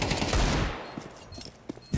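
Counter-Strike gunfire during a pro BLAST Bounty match: a dense, loud burst of rapid rifle fire opens, fades out, then a few faint isolated shots and clicks follow.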